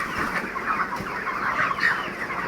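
35-day-old broiler chickens, mostly hens, cluck and murmur close by, a busy overlapping chorus of short clucks that continues steadily throughout.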